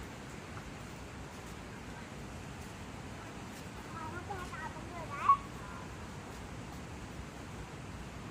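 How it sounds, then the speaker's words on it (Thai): Water rushes steadily at Huai Chan waterfall in Khun Han, Sisaket, making a constant broadband roar with no breaks, and one brief sharper splash or knock stands out near the end. "เสียงน้ำสดใสอลังการ"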